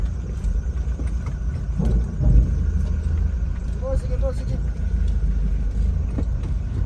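Vehicles rolling aboard a ferry at Caticlan port, with a steady low engine rumble and idling throughout and a brief louder thump near the middle, while people talk briefly nearby.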